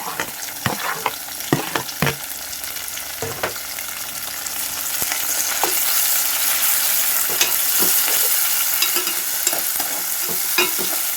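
Tomatoes and green chillies sizzle with onions in a pan for chicken liver fry, a steady loud frying hiss broken by repeated scraping knocks of a stirring spoon, with no talking.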